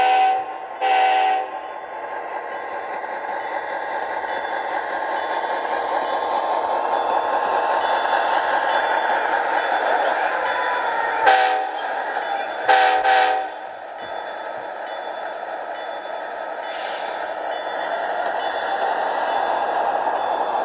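An Athearn Genesis Amtrak P40DC model locomotive running past on a layout, a steady electric motor whir with a few short horn blasts layered on top.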